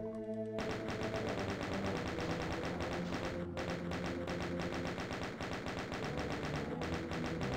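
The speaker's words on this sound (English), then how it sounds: "Might as well just grab the chain gun and snipe him like this." Chaingun in Doom II: Scythe 2 fires nonstop in a steady, rapid rattle of close, loud shots for the whole stretch, no voices over it.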